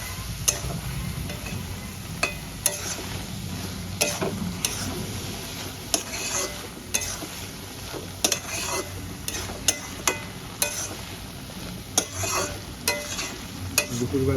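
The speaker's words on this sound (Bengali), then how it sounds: "এবার আমি মিক্স করে দেবো।" Moong dal, cabbage and paneer, topped with ghee, garam masala and chopped coriander, stirred in a pan; a utensil scrapes and clicks against the metal at a steady, repeated rhythm over a soft background hiss.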